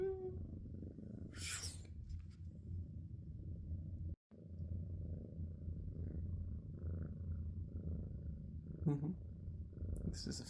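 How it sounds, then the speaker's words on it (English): A contented cat purrs steadily close up, a low continuous rumbling throughout with a brief dropout midway and a couple of small higher-pitched noises. "He is in his happy place, as you can tell by those purrs."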